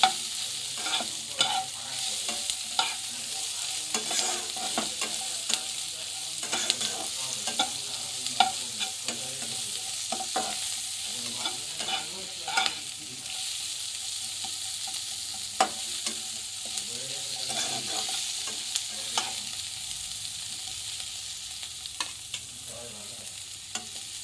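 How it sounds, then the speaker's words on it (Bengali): Onion and tomato fry together in a pan for chilli chicken, a constant sizzle under frequent, irregular scraping and clinking of a spatula stirring throughout, close and moderate in level, no voices. "পেঁয়াজ টমেটো সব একসাথে দিয়ে দেবো ভালো করে আমি ভেজে নেবো"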